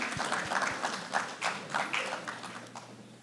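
A crowd at an awards ceremony claps for a few seconds, a dense patter of hand claps at moderate volume in a room, with a faint voice underneath.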